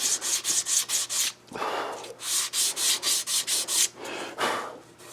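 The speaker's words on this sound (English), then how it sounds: "We'll run the sandpaper across it just to get any little teeny residue." Sandpaper rubs back and forth across a cherry wood box in quick, even strokes, a close rasping swish repeated about a dozen times with two longer passes in between.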